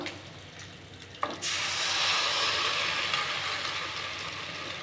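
Ground batter poured into a hot pan with chillies and curry leaves, a sudden loud burst of sizzling that stays strong and steady, close up with no talk.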